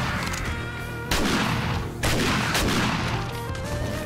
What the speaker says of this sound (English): Yeah, this is hip firing.